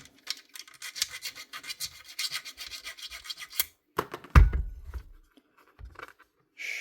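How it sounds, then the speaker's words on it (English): Rubbing the carbon brushes and brush holders of a jammed Makita 1902 planer, a run of quick rhythmic scratchy rasps followed by a heavier thud and a few scattered scrapes, close up. "we'll just give the brushes a little rub as well,"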